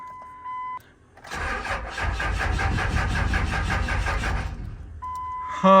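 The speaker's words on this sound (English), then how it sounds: "Let's try starting this thing up." A big 1999 Ram 2500 Cummins diesel engine cranks loudly for about three seconds and then stops without catching, with electronic beeping tones before and after.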